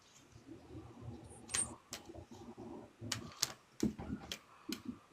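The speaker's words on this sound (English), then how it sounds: "Cards dropping out of my hand left and right." Playing cards dropping from the hands during a shuffle, a run of faint, sharp little taps and flicks spaced irregularly, heard close in a quiet room.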